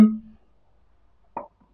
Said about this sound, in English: And then my taller bottle makes a sound like this.